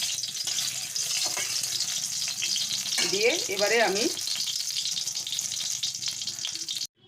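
Mustard oil frying in a hot wok, a steady bright sizzle throughout, close up, with a voice briefly speaking over it midway.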